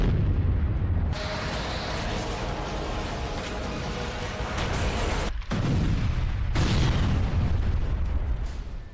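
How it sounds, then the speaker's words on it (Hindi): Loud, heavy explosions from bombing boom and rumble in a dense, continuous roar, with abrupt breaks between the blasts. "कहीं विनाशकारी धमाके"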